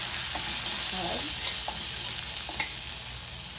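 Cabbage and potato sautéing and sizzling in oil with a pinch of turmeric, a steady frying hiss throughout with occasional soft stirring scrapes, close and alone.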